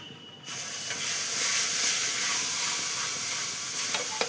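A wet paste of tomato, garlic, chili and ginger hits frying gram flour with a sudden loud hiss, then settles into a steady, bright sizzle close up, with a few faint clinks toward the end.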